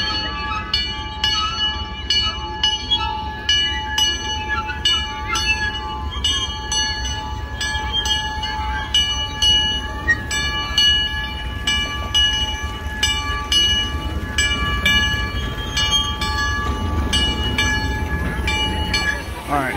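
A train rolls past on railroad tracks with a steady rumble and rhythmic clicking of the wheels, and a sustained tonal horn-like note over it, loud and continuous for the full twenty seconds.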